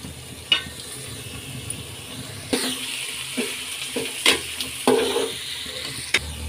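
Chopped onions and capsicum frying in a pan for upma, a soft steady sizzle broken by scraping stirs and clanks of the spatula, with no voices.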